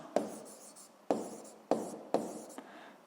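Pen or pencil writing notes on paper in a quiet classroom setting, four separate bursts of scratching strokes, each starting sharply and trailing off, close and fairly quiet with no talking.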